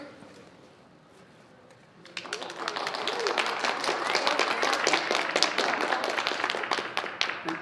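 An audience at a furry convention charity event breaks into applause after a quiet moment, a dense, steady crowd clapping that swells and holds at a lively level, with a voice faintly heard beneath it.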